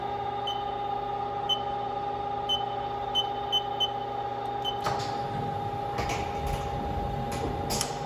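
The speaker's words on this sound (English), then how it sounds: "We just home the machine." A 2016 Haas DM-2 CNC vertical machining center homing: a steady electronic hum with evenly spaced short beeps, then louder mechanical clicks and clunks as the axes move.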